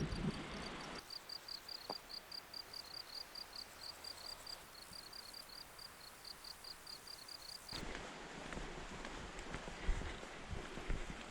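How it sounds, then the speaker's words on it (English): Crickets and grasshoppers chirping in alpine meadows along the Tour du Mont Blanc, a steady high pulsing trill over soft rustling and footsteps, fairly faint and continuous. "Can you hear all the crickets?"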